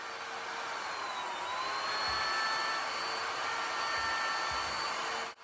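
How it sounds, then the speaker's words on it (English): A router runs with a steady high whine, close and continuous, as it cuts cheap timber for a guitar body, with a few low thumps beneath the motor. "because of the length of the router bits that I was using, I had to do quite a few passes"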